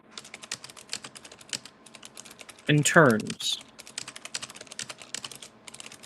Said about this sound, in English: really loud. The typing.